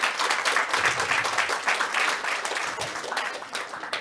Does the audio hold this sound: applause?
yes